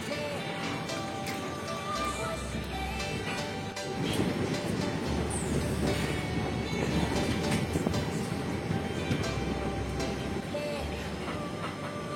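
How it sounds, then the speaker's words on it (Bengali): The Lachit Express departs Murkongselek station, a low steady rumble of rolling rail cars with faint clatter and a heavier swell midway, heard from on board with no talk. "ট্রেন নাম্বার 15614 লাচিত এক্সপ্রেস তার নির্ধারিত সময় 8:20 মুরকং সিলেক্ট স্টেশন থেকে ছেড়ে তার পরবর্তী গন্তব্য সেলেম স্টেশনের উদ্দেশ্যে রওনা হলো"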